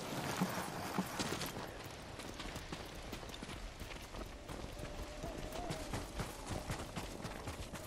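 Horses' hooves clip-clop steadily at a trotting rhythm in Ghost of Tsushima, close and continuous across the whole stretch with no talk over them.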